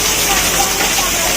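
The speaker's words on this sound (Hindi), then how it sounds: "इतनी तेज बारिश हो रही है" Heavy rain pours outside a shopping mall, a steady loud broadband hiss that fills the whole short stretch without a break.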